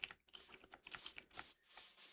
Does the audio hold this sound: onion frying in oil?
no